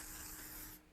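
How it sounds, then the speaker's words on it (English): Nonstick cooking spray hisses from the can onto a baking pan in one steady, close burst that stops abruptly just before the end. "Now spray the top of this with the nonstick spray again, and make sure you get the sides."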